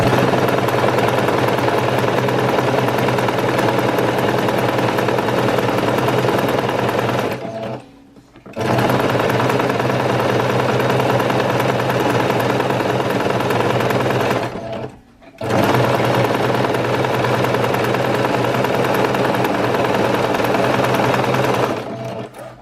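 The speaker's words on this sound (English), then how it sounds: "I will sew through a couple of more stitches" A sewing machine runs zigzag stitches through fabric in three long, loud, steady bursts of rapid mechanical chatter, each stopping briefly before starting again.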